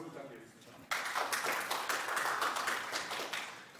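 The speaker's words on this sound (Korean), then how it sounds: "박수 부탁드리겠습니다" Applause from a seated conference audience at a Kubernetes and GitLab tech talk, starting abruptly and holding as a dense, steady patter of clapping for about three seconds.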